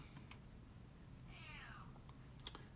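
A hungry cat gives one faint meow, brief and rising then falling, from some distance against a quiet room hum with a few small clicks.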